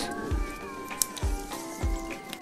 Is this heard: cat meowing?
yes